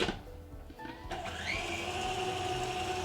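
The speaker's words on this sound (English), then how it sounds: "then we're going to whisk it some more" Eggs being beaten into red velvet crinkle cookie batter with an electric mixer, a steady continuous whirring drone that starts softly and swells louder after about a second, close by with no talk.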